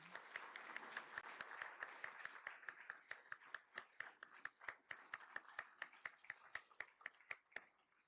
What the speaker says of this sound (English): And let's give these folks a round of applause.